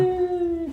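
A pet dog gives one short, close, sustained tonal howl that holds steady and then drops and breaks off at the end.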